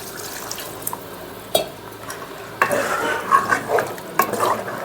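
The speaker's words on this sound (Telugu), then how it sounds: "వాటర్ వేస్తున్నాండి" Water poured into a pan of mutton curry cooking with ground coriander, cumin and small raw mango pieces, setting off a loud, close sizzling burst partway through with stirring scrapes, after a quieter simmering start.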